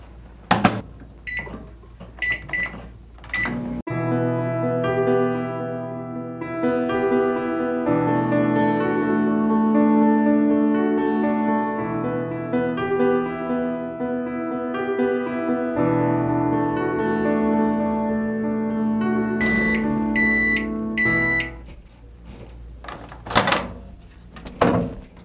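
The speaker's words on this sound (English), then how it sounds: "And then you put it in the microwave for the longest minute of your life." A microwave oven hums steadily while heating a mug cake in a dorm room, a loud continuous drone lasting about twenty seconds, framed by door clicks and a cluster of sharp electronic beeps at the start and end.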